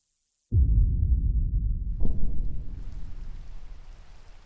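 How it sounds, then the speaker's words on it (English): A rainstorm summoned in a Minecraft modpack: after a moment of silence, a steady wash of rain noise starts abruptly, with a second surge partway through, then continues as a broad hiss alone with no talk. "So I'm going to create a storm."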